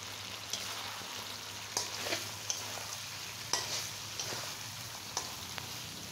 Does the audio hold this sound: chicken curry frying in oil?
yes